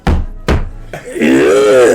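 Two sharp, loud knocks on a door in a comedy show, spaced about half a second apart, followed by a voice speaking.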